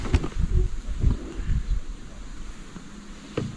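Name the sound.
wind at a reed-fringed fishing spot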